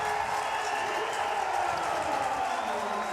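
A stadium crowd at a Canada versus Spain rugby international roars and cheers after a successful kick by Peter Nelson, a dense sustained wash of voices with a commentator talking over it.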